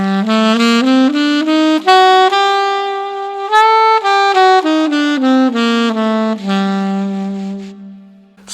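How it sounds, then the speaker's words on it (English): Tenor saxophone playing an A harmonic minor scale over a handpan, the sax line stepping clearly up and back down in sustained, connected notes, loud and close with no talking. "For tenor sax, it's A harmonic minor."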